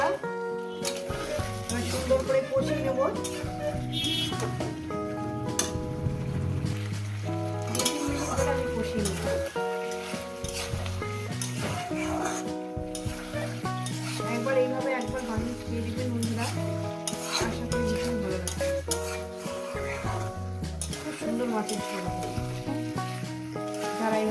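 Ground spice paste sautéing with a splash of the water used to rinse the grinding bowl for a Bengali vegetable-and-fish curry; a steady sizzle and stirring run beneath prominent background music throughout.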